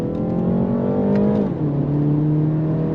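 A 2023 BMW 330i, rear-wheel drive, pulls hard on throttle with a steady close engine drone that rises in pitch, dips briefly at a shift, then climbs again, with no talk over it.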